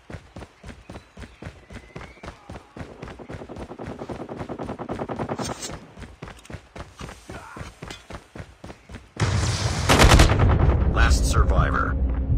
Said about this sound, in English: Be advised, hostile sentry gun spotted.